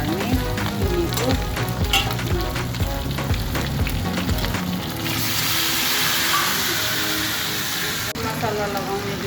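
Ginger garlic paste sizzles and fries in a hot pan for chicken curry, a dense, loud crackle throughout, with stirring clatter and a voice talking over it in the first half.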